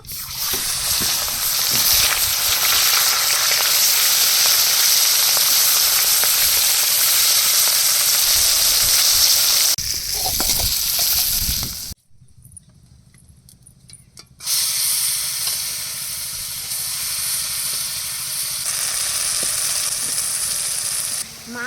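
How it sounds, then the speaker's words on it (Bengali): Bata fish frying in a pan hisses loudly and continuously up close, the sizzle dropping away abruptly for a couple of seconds before resuming at a slightly lower, steady level. "মাছগুলো ভেজে নেব"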